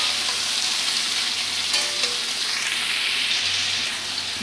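Sliced ridge gourd and potatoes fry together in hot oil, giving a continuous close sizzle with light stirring scrapes and no voices.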